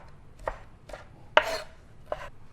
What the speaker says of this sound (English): get a 1/4 cup of cilantro diced up here